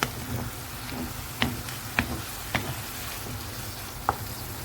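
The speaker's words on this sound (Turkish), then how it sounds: "Sonra suyunu çekene kadar pişecek ocakta." Spiced filling with chili flakes and cumin cooks in a pan on the stove for içli köfte, giving a steady low sizzle with a few sharp clicks of the spoon stirring against the pan.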